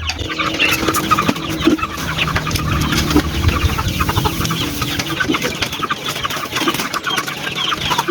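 Hungry 45-day broiler chickens cluck and squawk together in a busy, continuous chorus of overlapping calls, with sharp bursts standing out above the steady flock noise.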